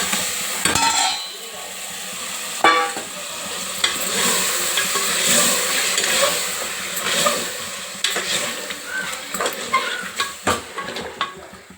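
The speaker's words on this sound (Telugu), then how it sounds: "నూనెలో మంచిగా వేగిలియాలి" Mutton frying in oil with fenugreek leaves for curry, giving a continuous close sizzle while a spoon stirs and knocks against the pot, with the clanks growing more frequent near the end.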